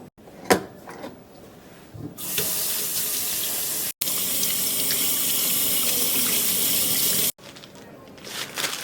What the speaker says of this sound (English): Washing your hands is super important, especially during COVID